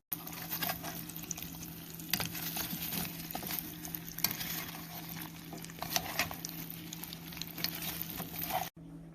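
Apple slices cook in butter in a pan over raised heat, giving a steady close sizzle with small crackles and occasional stirring clatter, and no voices.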